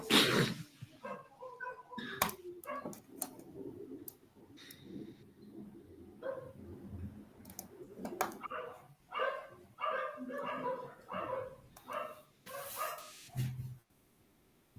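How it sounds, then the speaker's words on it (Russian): Several dogs bark in repeated irregular bursts, some sharp yips mixed with deeper barks, moderately distant in an outdoor setting with other animal activity, with occasional faint background voices. "Там коты кричат, а собаки на них лают"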